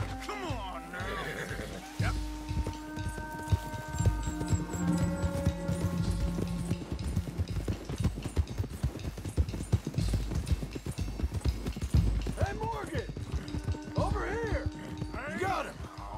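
Horse in Red Dead Redemption 2, with steady clip-clop hoofbeats close by and a few whinnies, under people talking and game dialogue.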